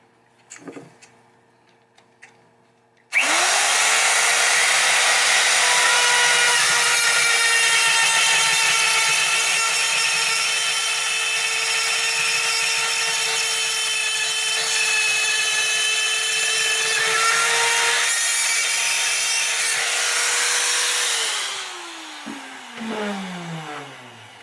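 A handheld power tool spins up abruptly and runs at a loud, steady high-pitched whine for about eighteen seconds while trimming a part on a 1976 Williams Grand Prix pinball backglass, then winds down, with light handling clicks before and after.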